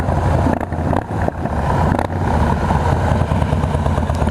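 A Harley-Davidson Road King Special with its 103 engine runs close by in a loud, steady, deep rumble that holds throughout, with brief dips near the start and no talking.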